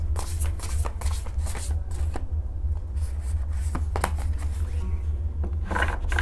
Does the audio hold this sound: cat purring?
no